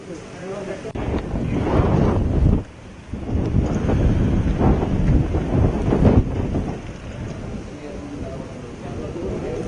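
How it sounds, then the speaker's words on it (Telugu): Heavy rain pours down in Vijayawada amid strong gusting wind buffeting the microphone, a roaring wash of noise that dips briefly and then builds again. "బలమైన ఈదురుగాలులతో ఒక్కసారిగా భారీ వర్షం కురిసింది"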